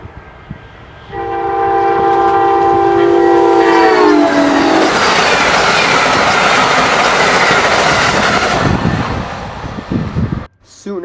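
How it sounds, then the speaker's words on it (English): A westbound Amtrak Wolverine passenger train sounds a loud, sustained multi-note horn as it approaches Pine Junction in the Chicagoland area, then roars past with a rushing, rumbling wash of wheel and car noise that fades at the end. "Our first train would be a westbound Amtrak Wolverine."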